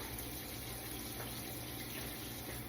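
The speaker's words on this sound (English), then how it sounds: "Coming from the faucet, the sprayer is on it." Water sprays steadily from a kitchen faucet sprayer onto fresh pineapple, strawberries and a Granny Smith apple being rinsed in the sink, a continuous close hiss with no pause.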